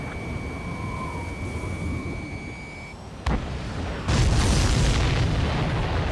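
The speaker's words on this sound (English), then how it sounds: "Did you see that explosion?" A supply ship explodes in the Ace Combat 7: Skies Unknown jet combat game. A sharp crack is followed by a deep, heavy boom that swells into a sustained rumbling roar over steady aircraft engine drone.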